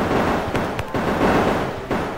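Video game Grim Nights shooting, a dense unbroken burst of rapid gunfire with several sharper cracks standing out, loud and close throughout the short stretch.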